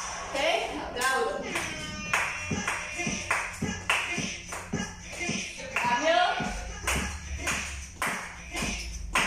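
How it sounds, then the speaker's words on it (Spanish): Sharp, distinct hand claps struck one at a time in a loose, regular rhythm, close and clear, during a Latin fusion dance class, with an instructor's voice speaking between the claps. "Voy a empezar aplaudiendo."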